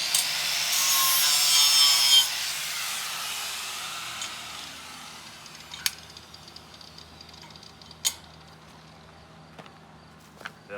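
Abrasive rubbing on a steel surface, brightening a spot for a welding ground clamp, runs steadily for about two seconds up close, then fades into quiet with a few sharp metallic clicks and taps.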